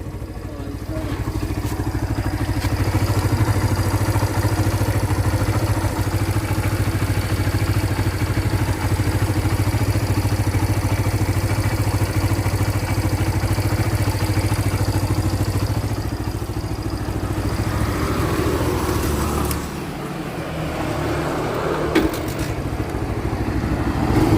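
A 2019 Barako 2 motorcycle engine runs steadily after its carburetor is tuned, a close, continuous mid-pitched idle with a faint clatter that eases slightly near the end. A voice speaks briefly over it.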